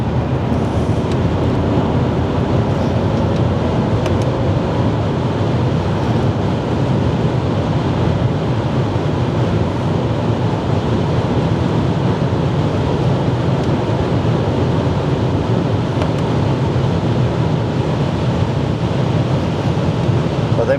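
Loud, steady roar of a V12 BMW cruising at very high speed on the German Autobahn, with heavy wind and road rumble filling the cabin continuously and no talking.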